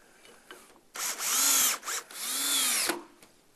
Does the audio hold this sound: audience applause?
no